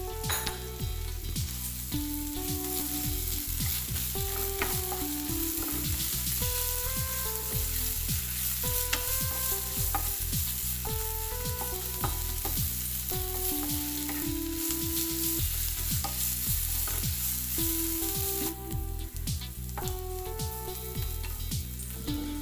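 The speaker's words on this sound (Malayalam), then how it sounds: "ക്രഷ് ചെയ്ത് വെച്ചിട്ടുള്ള ഇഞ്ചിയും പച്ചമുളകും ചേർത്തിട്ട് നല്ലൊരു യെല്ലോ കളറാവുന്നത് വരെ വഴറ്റിയെടുക്കാം." Crushed ginger and green chili being sautéd in a pan for beetroot pickle give a steady, loud frying sizzle with occasional stirring scrapes, running throughout under a background of music.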